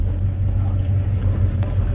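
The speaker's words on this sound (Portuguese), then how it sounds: "Manobrar o carro aqui" A steady low engine rumble idles and shifts slightly, a car moving slowly nearby with no voices.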